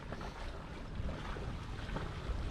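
Wind rushes across a sailboat under way, a low, faint, steady buffeting with soft water wash and no voices.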